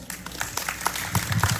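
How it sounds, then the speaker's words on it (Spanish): A school audience applauds a reader at a book presentation, with steady clapping that swells and thins over a short stretch and a faint voice somewhere beneath it. "Aplausos para Nayeli Huertas."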